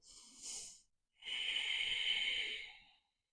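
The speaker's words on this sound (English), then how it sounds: "go back to that ujjayi breath" Ujjayi yoga breathing: a short hissing breath, a brief pause, then a longer, steady throaty exhale with an ocean-like rasp, close and fairly quiet, no talking.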